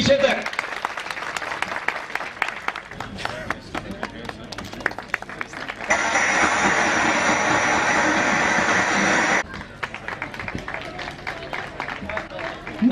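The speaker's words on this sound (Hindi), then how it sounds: "तालियां बजनी चाहिए पीछे तक।" Scattered clapping from an audience at a large stage event as a hospital blood bank team member is called up, uneven and patchy, with a loud steady burst of noise in the middle and voices intermittently present.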